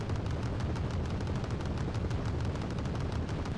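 Flak Panzer anti-aircraft guns fire in a strategy video game, a dense, continuous stream of rapid distant-sounding shots and booms with no pauses.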